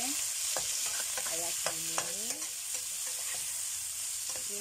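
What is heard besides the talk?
ingredients added and stirred in pan, cooking mie cemplung noodles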